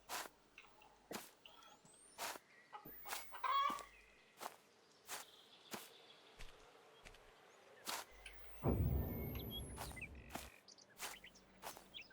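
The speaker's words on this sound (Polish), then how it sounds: "Kura." A hen in the farming video game Farmer's Life clucks in short, repeated bursts, fairly close, with clicks and a brief louder squawk, no talking.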